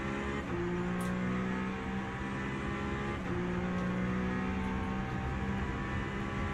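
LMP2 prototype race cars in a Le Mans racing video game, engines droning steadily at high speed as the cars pass by, a continuous loud roar with no talk.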